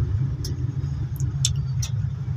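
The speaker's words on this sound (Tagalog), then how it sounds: "napakahabad din ba ng traffic dito." Heavy road traffic in San Carlos, Pangasinan: a steady, close low rumble of car engines with a few brief, high squeaks or chirps standing out above it, and no talking.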